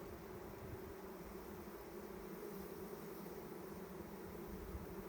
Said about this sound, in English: Huge ball of bees right here.